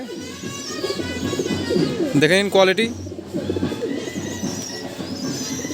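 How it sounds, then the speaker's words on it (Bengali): A female pigeon of a spotted variety coos in low repeated calls near the microphone while someone talks over it, with a brief louder burst of sound in the middle. "এবার একটা মাদি পায়রা দেখাচ্ছি দেখুন মাদি পায়রাটা"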